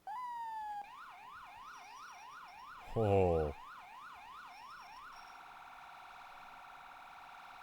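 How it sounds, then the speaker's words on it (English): A small wind-up mechanical siren on a Dodge ambulance, rising and falling in steady wails before holding a long sustained tone, with a brief loud horn-like blast in the middle and a short exclamation. "Oh, it's got a little wind-up siren too?"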